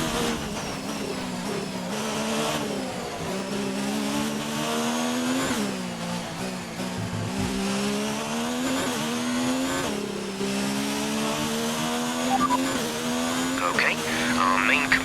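A Formula 1 race car in the F1 2019 video game, weaving side to side to warm its tyres. The engine drones loud and steady, its pitch rising and falling with throttle, and a voice talks over it.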